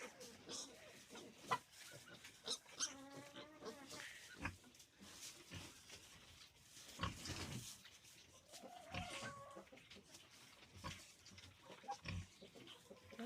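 Pigs grunt and squeal intermittently at a distance, with scattered clatter and faint background noise around them.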